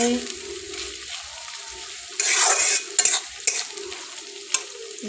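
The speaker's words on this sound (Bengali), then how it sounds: "পেঁয়াজটা লাল লাল করে ভাজে হবে" Onions fry in a pan on an electric heater while being stirred, giving a steady close sizzle broken by scraping and clattering strokes of the spoon.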